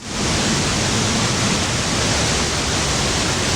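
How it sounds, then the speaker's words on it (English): Tarawera Falls, a 35-metre waterfall bursting out through rock walls rather than over a ridge, roars as a constant, dense rushing wash, loud and close from a viewing platform, no voices present. "unlike a regular waterfall, if you actually look at it, it's not coming out from over a ridge. It's bursting through the rocks"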